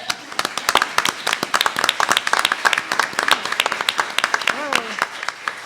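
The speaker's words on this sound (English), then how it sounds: "You don't need to applaud at everything." An audience at a League of Women Voters candidates forum claps in sharp, distinct hand strikes, close and fairly loud, with a voice briefly cutting in near the end.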